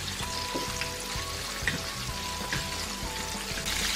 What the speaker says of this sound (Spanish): ahora vamos a echar aquí los trocitos de ajo. Vamos a pocharlo un poquito.